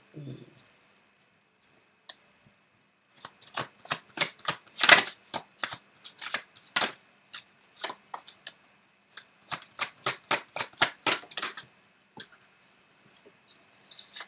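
Tarot cards shuffled by hand in rapid bursts of crisp riffling and flicking, close and clear, with pauses between runs and a brief voice at the start.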